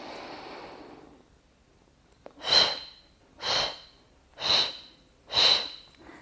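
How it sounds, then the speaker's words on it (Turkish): During a pregnancy breathing exercise, a long soft inhalation fades out, then after a pause four short, evenly spaced breathy exhalations follow at close range with no talking. "uzun nefes alıp kısa kısa nefesler veriyoruz"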